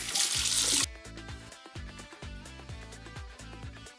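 Hot tap water runs from a faucet to rinse a 3D printer's build plate: a bright, steady hiss of flowing water for under a second, then irregular splashing and dribbling against the plate.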